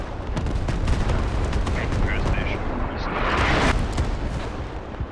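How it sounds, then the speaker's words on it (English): Artillery in a military video game rumbles on as dense, continuous booming and blasts, loud and unbroken across the whole stretch, with a heavier surge of explosions near the end and a voice faintly beneath. "and that's it for the artillery"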